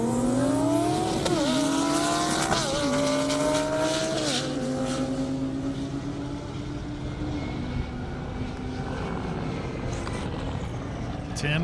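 A Lamborghini Huracan and a C8 Corvette drag race at an airport, engines roaring loud and close with rising pitch sweeps through several upshifts, then a long sustained high-speed drone fading slightly; faint voices underneath.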